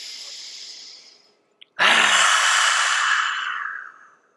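Lion's breath exercise in a beginner breathwork session: a steady airy exhale fades to silence, then after a quick sharp intake comes a long, loud, forceful breathy exhalation that tapers off, close to the mic and without words.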